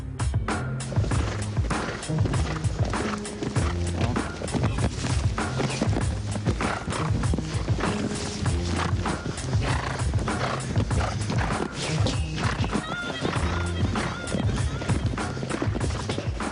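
Horses working over jumps during show jumping training, with steady rhythmic hoof thuds and clatter running throughout over a busy, continuous arena background with music-like tones.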